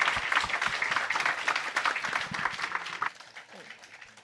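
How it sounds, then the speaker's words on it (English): An auditorium audience applauds a panel of three scholars at a university homecoming discussion, brisk crowd clapping that holds strong, then thins and fades near the end while a voice begins to speak. "Can we give a round of applause to the three esteemed scholars?"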